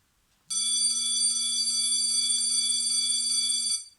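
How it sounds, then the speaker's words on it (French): A school bell rings continuously for about three seconds, a loud steady electric tone with a bright, buzzing edge that starts abruptly and cuts off cleanly, heard alone without talk. "la cloche vient de sonner"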